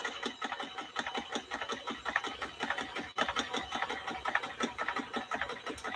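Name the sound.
vintage Kenmore sewing machine stitching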